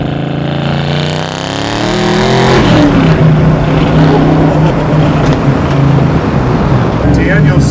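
A 750 hp 1969 Chevy Camaro engine rumbles and then revs up into a loud, sustained roar close by, with voices talking over it.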